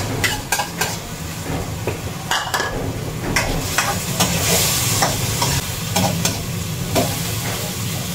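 Tomatoes sauté in a hot pan for a sarsyadong galunggong dish, with a steady sizzle and frying hiss under repeated clinks and scrapes of a utensil stirring against the pan.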